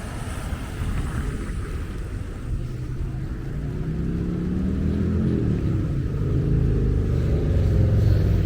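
A car rolls past on a street in Ensenada, its engine rumble swelling from a low murmur to a louder, nearer pass with wind buffeting the microphone.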